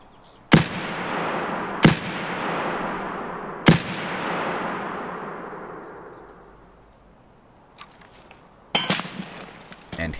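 A few loud single gunshots ring out in the Escape from Tarkov video game, each trailing a long echo, before a quicker cluster of sharp cracks near the end.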